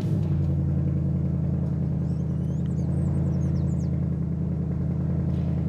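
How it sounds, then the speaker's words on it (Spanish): 2024 Ford Mustang V8 idling with the exhaust in its loudest track mode, a deep, even, close rumble holding steady throughout with no talking. "pero vamos a escuchar ese V8."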